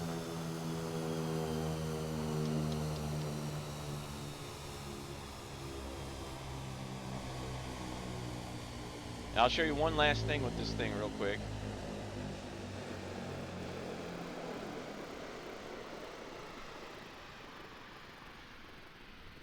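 A Daher Kodiak 100 Tundra's propeller engine drones steadily after the power is pulled back, a low humming tone with a brief burst of someone talking midway, the engine noise slowly fading afterward.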